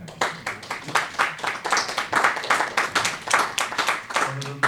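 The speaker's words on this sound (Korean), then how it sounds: "우리 목사님을 위해서 감사의 마음으로 박수로 환영하겠습니다" A church congregation clapping in welcome for the returning pastor, uneven rhythmic bursts of hand claps swelling and fading in a reverberant sanctuary.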